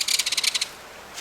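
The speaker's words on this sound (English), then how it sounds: "That is the kingfisher." A kingfisher's rattling call on a hike, a rapid burst of about ten sharp, dry, high-pitched notes lasting roughly half a second, then a single faint note after a pause, heard clearly without voices.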